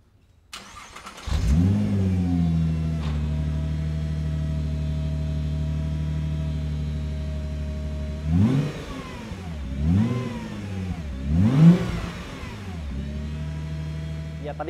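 A Nissan GT-R Nismo engine starts and settles into a steady, close idle, then is revved three times in quick succession, each rise and fall clear and loud with no talking.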